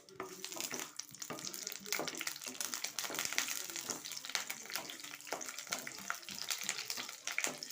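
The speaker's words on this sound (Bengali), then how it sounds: "তেল দিয়ে একটু এই যে বাদাম ভেজে নিচ্ছি।" Peanuts frying in oil in a kadai, the first step of a flattened-rice (chire) pulao, give off a steady crackling sizzle with scattered pops that continue throughout at moderate loudness, without any speech.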